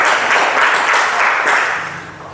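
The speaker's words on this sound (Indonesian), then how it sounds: "Berikan aplaus kepada kelompok 1." A classroom of students claps for group 1. The applause is dense and lively, holds steady, then fades toward the end, with no talking over it.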